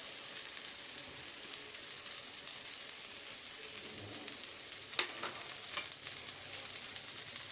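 Onion sizzles on uttapam batter already mixed with tomato, a steady close frying hiss with a few sharp clinks of a utensil partway through and no voices.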